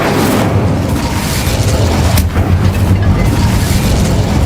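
Incendio fire spell in Hogwarts Legacy, a loud continuous roaring burst of fire with heavy low rumble, one brief dip and sharp crack midway, then the roar resumes.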